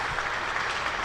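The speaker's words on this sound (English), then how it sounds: "he gets a round of applause from the crowd at the Ageas Bowl as he walks off" A cricket crowd at the Ageas Bowl applauds a batsman walking off after his innings, a steady, even wash of clapping held at a moderate level throughout, with no voices standing out.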